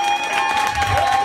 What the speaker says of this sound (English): Give that bitch a round of applause.